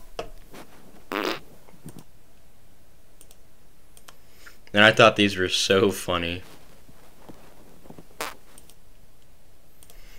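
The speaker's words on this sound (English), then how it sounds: "these were all real farts, by the way" One long, sputtering fart sounds loud and close, one of a set of novelty fart recordings titled Sounds of Nature. It breaks into a rapid run of wet pulses, with scattered clicks and a person talking around it.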